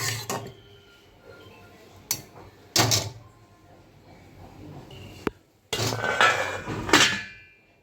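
A lid is set onto a pot of a potato dish on the stove, with several distinct metallic clanks and rattles of cookware spaced apart, close and fairly loud.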